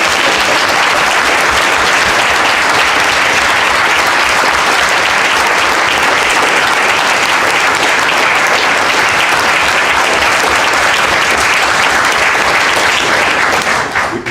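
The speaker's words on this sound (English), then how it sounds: "So can we please give them a hand of applause?" Sustained audience applause fills a symposium hall, a dense, steady clapping from a large crowd that holds evenly loud for about fourteen seconds before trailing off at the very end.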